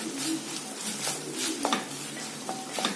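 Chopped tomato sautéing with onion in a pan for an egg curry, a close hissing sizzle with soft stirring scrapes and a few light clinks, no talk.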